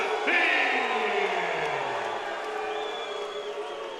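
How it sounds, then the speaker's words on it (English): Loud crowd at a kickboxing fight night in Kansas City, Missouri, a sustained roar of cheering and whooping voices with a rising shout near the start, gradually easing while staying dense. "This is a very loud crowd here tonight in Kansas City, Missouri"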